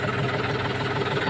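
A farm tractor's diesel engine idles steadily up close, a continuous low chugging rumble with a faint knocking beat and no talk over it.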